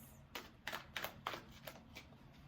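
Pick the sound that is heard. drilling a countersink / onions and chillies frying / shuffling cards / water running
shuffling cards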